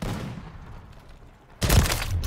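A sudden loud gunshot blast, a no-scope headshot in Modern Warfare 3, erupts after a stretch of low, rumbling game noise, ringing out briefly at close range.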